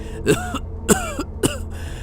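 Three short, harsh coughs in quick succession, close and fairly loud, with brief pauses between them.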